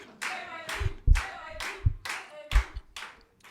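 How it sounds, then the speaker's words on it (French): A handful of people clap in loose, uneven bursts at a small apartment concert, close by and sparse rather than full applause. "Applaudissez-moi mieux que ça, s'il vous plaît."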